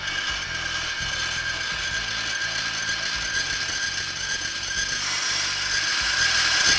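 A brake lathe runs to resurface a rusty brake rotor, giving a steady, dense mechanical whir and grinding hum with a faint ratcheting texture, continuous and close, swelling slightly toward the end.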